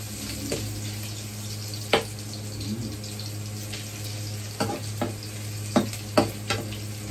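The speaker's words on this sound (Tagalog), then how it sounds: "Saan natin ang paggigisa. Siyempre, unahin natin ang luya." Ginger sizzles and fries in a pan, a steady faint hiss broken by several sharp stirring clacks of a utensil against the pan.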